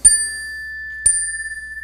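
A unison chime with two bars on nearly the same note is struck twice about a second apart, each ring sustaining with a slow pulsing wobble from the slightly mismatched bars, close and clear with no talk.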